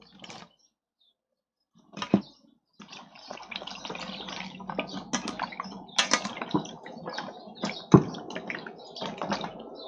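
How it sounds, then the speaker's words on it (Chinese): Something being washed by hand in water, with irregular splashing and sloshing that starts after a brief pause and continues steadily, fairly close and moderately loud, with no talking over it. "把它洗一洗啊，把它洗一洗啊"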